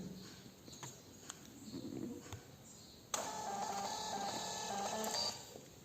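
A small receipt printer prints a laundry receipt: faint handling sounds give way to a sudden steady mechanical whir of printing lasting about two and a half seconds, then stopping.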